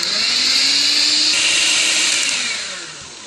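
An electric mixer kneads dough while the rest of the flour is worked in, a loud steady whirring motor drone that holds for a few seconds and then eases off slightly at the end, no talk.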